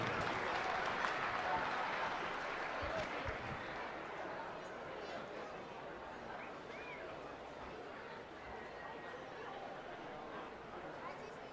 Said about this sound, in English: Have a round of applause for our junior division exhibitors.